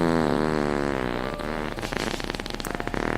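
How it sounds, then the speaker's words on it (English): A single long, loud fart stretches for over a second with a buzzing, wavering tone that breaks up into sputtering pops toward the end, heard close and alone. "thank you very much for the mega fart there, Igorian"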